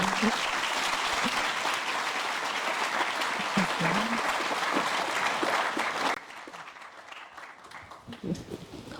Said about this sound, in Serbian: Iako mogu da vas zamolim za jedan aplauz za naš dan